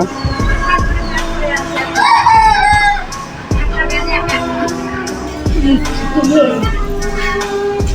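Roosters crow and hens cluck in a busy chicken farm above a brick kiln, several birds calling over a background of clattering and distant chatter.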